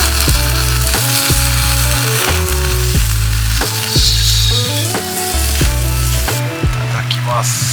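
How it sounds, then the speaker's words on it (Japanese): Food sizzling steadily inside a FIREBOX Freestyle Stove on a solo camping trip, loud close frying crackle under repeated rhythmic musical tones. "さあ中は蒸し焼き"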